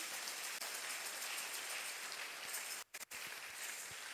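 Congregation applauding at a church service, a dense, steady wash of clapping hands that fills the space evenly, briefly dropping out near the end before resuming.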